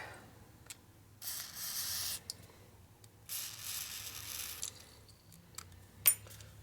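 Lubricant sprays from an aerosol can onto the springer front end of a 1936-1948 Harley knucklehead bobber, giving two short hissing bursts close by amid quiet workshop handling clicks and a sharp metallic tap near the end.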